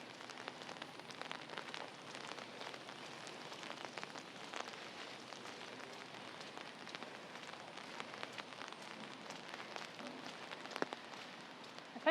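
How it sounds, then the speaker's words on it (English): Heavy rain pours steadily on surfaces during a walk in Bedok, Singapore, a constant wide hiss dotted with nearby drips and patters, no one speaking. "it's kind of heavy rain"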